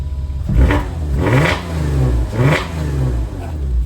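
A V6 955 Porsche Cayenne engine with its muffler bypassed revs hard three times in a row, loud and raw with a rough, unmuffled exhaust roar between the bursts.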